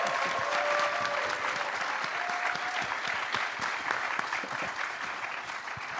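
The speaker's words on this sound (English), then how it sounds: "can we give a big round of applause" A crowd at a tech talk on building streaming apps gives sustained, dense applause, an even wash of clapping that holds steady throughout.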